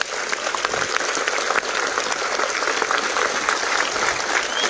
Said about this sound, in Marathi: सर्वांसाठी शिवभक्तांसाठी जोरात टाळी